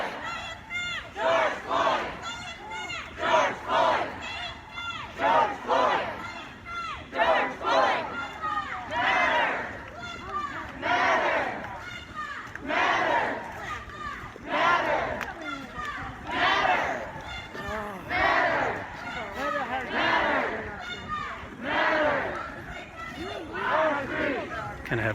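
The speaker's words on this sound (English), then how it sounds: "Kind of have two chants going on at the same time in the front and the back of the group here." A large crowd of Black Lives Matter protesters marching through Flushing, Michigan, chanting loudly in rhythmic repeated bursts, with two chants overlapping from the front and back of the group, heard from up close within the crowd.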